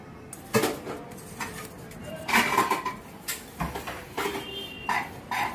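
A soaked dhoka batter mixture is poured and stirred in a pan, giving irregular clinks, scrapes and clattering knocks of a utensil against cookware, close and fairly loud.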